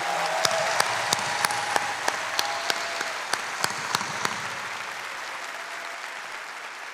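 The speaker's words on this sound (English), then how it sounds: "let's give them a huge round of applause for everything they do" Crowd at a UCLA women's basketball national championship celebration applauds the staff, a broad steady roar of clapping in a large space with sharp isolated claps standing out near the start, slowly fading.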